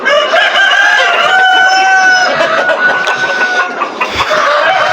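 Chickens on a poultry farm in cold winter weather, with a loud rooster crow ringing out over clucking and chattering fowl, close by and continuous.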